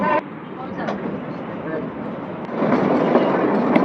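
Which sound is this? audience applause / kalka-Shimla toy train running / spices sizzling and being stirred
kalka-Shimla toy train running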